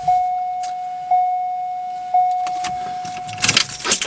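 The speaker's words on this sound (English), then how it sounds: "Key on, actuator works" Three short electronic beeps at even intervals, followed by a brief whirring mechanical actuator buzz from a GM vehicle's steering column lock.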